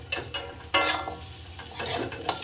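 Fried potatoes and vegetables tumble into a pan of cooked masala for a fish curry, a few close clattering drops and scrapes of a spoon against the pan over a faint sizzle, no voices.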